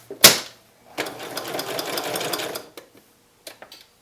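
A sewing machine stitches a stuffed bat pillow in a close, steady run of about a second and a half. A sharp click comes before it, and a few light mechanical taps follow after it stops.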